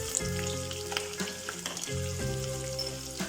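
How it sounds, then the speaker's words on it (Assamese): Onions frying in a pan for restaurant-style dry chilli chicken, a steady close sizzle with stirring scrapes and a faint tonal hum running underneath, no voices. "পিঁয়াজখিনি ৰঙা কৰি ভাজিব নালাগে, অলপ সময় ভাজি তাৰ অকণমান পানীটো ওলাব দিব লাগে"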